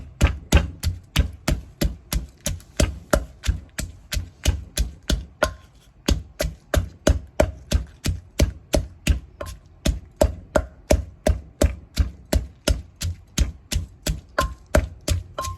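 Steady, rapid thuds of a pestle pounding Thai-style papaya salad with rice noodles in a mortar, close and loud, keeping an even rhythm for the whole stretch with only one brief pause.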